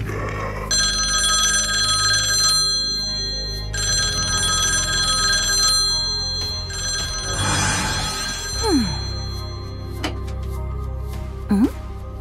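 A public payphone rings in repeated bursts of electronic bell tones separated by short pauses, loud and close, with a few brief whooshing effects layered over a low background hum in an animated scene.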